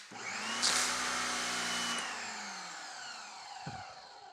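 A pressure washer resembling an Amazon Active 2.0 runs loud and steady while siphoning water, its motor whine holding for about two seconds before easing off, followed by a brief low thump near the end.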